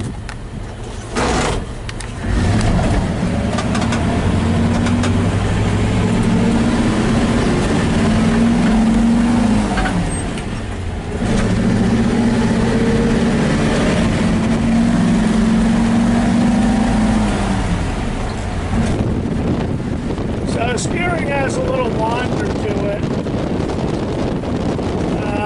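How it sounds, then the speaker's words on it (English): A 1951 Ford F1 pickup truck, restored and completely stock, cruising at around 45 to 50 mph: a steady loud engine drone with heavy wind rush throughout, no talking. "Drives out really nicely. We're going probably 45, 50 miles an hour right now."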